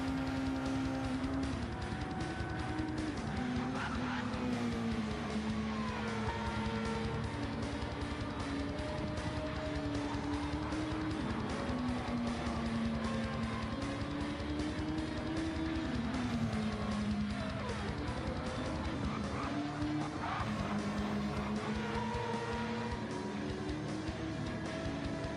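Race car lapping Watkins Glen in Gran Turismo 7, a continuous loud engine note rising and falling through gear changes and corners for the whole stretch.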